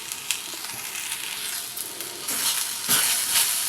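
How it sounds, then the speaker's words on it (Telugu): A spoon scrapes and stirs cooked besan (gram flour) mixed with turmeric, salt and chili powder in a hot pan for a brinjal fry, giving a continuous gritty scraping over a soft sizzle, close up and with no talking. "దీన్ని మొత్తం కలిసేలాగా కలుపుకోవాలి"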